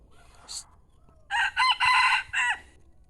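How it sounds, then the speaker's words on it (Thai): A yellow-feathered rooster for sale crows nearby, one loud full crow of several rising and falling syllables after a short faint cluck, with a quiet background. "ขันบ่อยนะครับ ขันแล้วนะครับ"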